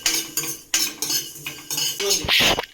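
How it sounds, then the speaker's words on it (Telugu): Fenugreek seeds roasting dry in a pan for tomato pickle, stirred with a metal spoon: repeated close scraping and clinking strokes against the pan, loud and uneven. "మెంతులు బాగా వేయించుకోవాలి."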